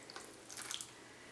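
Water poured into a plastic bag holding a sponge for an egg drop project, a brief splashing trickle that swells and then fades, with no voices.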